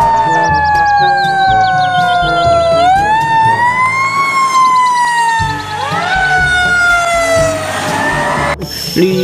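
A toy fire truck siren wails in rising and falling electronic tones, loud and close, with clattering toy noises underneath.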